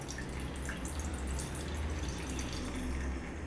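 Collected water is slowly poured off a settled ragi (finger millet) extract, giving a steady close trickle of liquid with light drips throughout and no speech.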